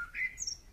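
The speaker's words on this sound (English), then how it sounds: "It was only a small brown bird, but that didn't matter because it sang such a beautiful song." A small brown bird sings a brief, bright song of a few high chirping notes, clear and close with nothing else heard.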